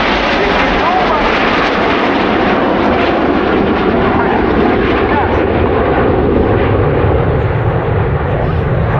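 Red Arrows jets fly an air display, a loud, continuous roar of jet engines that fills the whole stretch while a commentator speaks over it.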